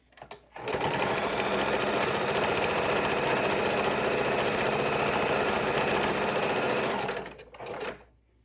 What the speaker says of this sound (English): So across the bottom a couple of times, back and forth